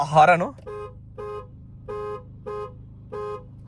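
A car horn sounds five short, evenly spaced honks of moderate volume, each a steady buzzy tone, following a brief voice at the very start.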